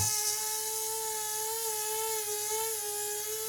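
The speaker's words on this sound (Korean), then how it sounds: "핸드 그라인더로 홈을 파는 과정인데요" A hand grinder cuts a groove into an artificial wood stem, its motor giving a steady, high, even whine with a constant tone that holds for the whole stretch, loud and alone.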